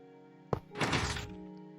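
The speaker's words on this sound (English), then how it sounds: "the two pistons extend" Two Minecraft pistons extend together in a video game, giving one sharp mechanical thunk followed by a broader sliding, crunching burst that fades over about a second, clear and alone against a quiet hum.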